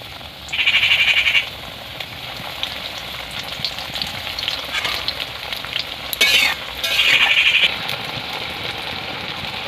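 Banana flower chops made with potato and semolina fry in hot oil, a loud close bubbling sizzle with two stretches of intense crackling bursts and a brief stir or clatter in between.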